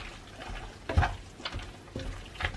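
Pasta being stirred through sauce in a pan for a quick vegan meal, soft wet scraping and sizzling pats in a few short bursts, close and fairly quiet.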